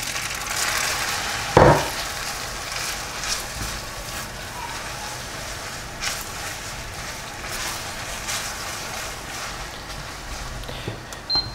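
Pasta water tipped into a hot carbonara pan gives a sharp splash, then a steady soft sizzle and bubbling continues under light stirring, close and moderately loud, with no talking.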